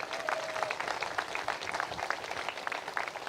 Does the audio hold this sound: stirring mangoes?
no